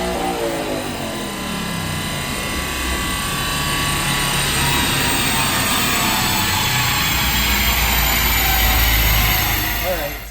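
Supercharged 2012 Roush RS3 Mustang with a Brenspeed 710R upgrade on a dyno at full throttle, a loud rising engine and supercharger whine climbing steadily in pitch over about ten seconds before cutting off.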